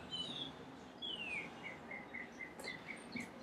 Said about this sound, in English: That bird don't shut the fuck up!